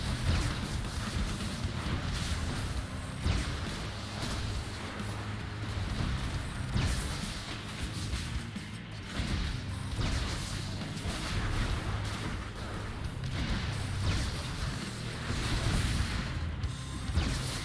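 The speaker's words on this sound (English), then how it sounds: "I don't know what that explosion was on me just there" Explosions and booming blasts from combat in the video game Hades, dense and continuous over a steady low rumble of game music and effects, with no clear single isolated bang.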